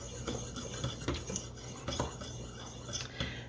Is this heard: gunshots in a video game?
no